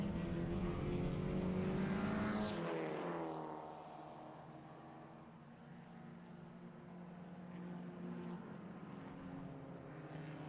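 Porsche 944 race cars at Winton racing toward the line, a loud engine roar sweeping past with a falling pitch, then a steadier, fading drone of cars continuing down the track.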